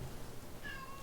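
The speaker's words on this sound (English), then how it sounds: "Apologies to everyone if you hear my cat in the background." A house cat meows faintly in the background of a quiet room during an esports match broadcast, two brief high tonal calls with no talk over them.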